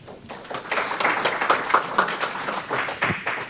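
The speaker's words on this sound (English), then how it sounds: "So I'd like to give a round of applause to Josie" A small audience claps for a speaker, a modest patter of hands that rises quickly and continues unevenly at moderate loudness for a few seconds.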